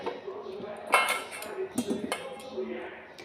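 Cut potatoes tumble into a cooking pot for a home-style chicken dish, making a series of clinks and clanks of metal and utensils, close and moderately loud, while a person talks over them.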